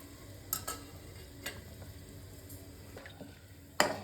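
Cinnamon, bay leaves, three cardamom pods and four cloves dropped into hot oil for carrot rice, a faint steady sizzle with a few scattered clinks and a sharper hit near the end, no voices.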